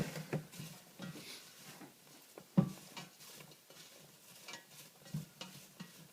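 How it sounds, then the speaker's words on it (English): Marshmallows melting over low heat in a pan, stirred with a utensil for Rice Krispie treats; soft sticky scraping strokes and occasional clinks against the pan, close and quiet, no talk. "Stir these up, let them all melt before we put our Rice Krispies in."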